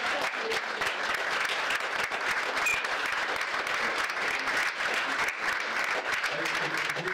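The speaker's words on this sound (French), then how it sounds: "on les applaudit d'abord" A festival audience applauds contest candidates called up to draw their running order, a dense, steady wash of many hands clapping that holds at full strength throughout.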